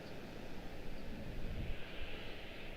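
A KLM airliner moves along the ground at Washington Dulles, a faint low engine rumble heard from a distance with slight swells and no talk.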